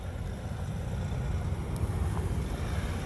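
A 2020 Ram Rebel EcoDiesel truck engine idles in a low, steady diesel rumble, fairly quiet and constant, mixed with broadband wind-like noise outdoors in snow.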